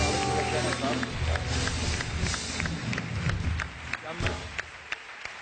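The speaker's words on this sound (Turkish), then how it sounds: "Alkışlar onlar için." Studio audience on a Turkish television talk show claps for the crew, a dense steady patter of applause with a few sharper individual claps standing out toward the end.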